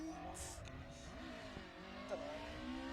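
A rally car on a stage of the Kames Junior Spring Rally slides under the handbrake, its engine note rising and falling distantly with faint tire noise, steady and fairly quiet throughout.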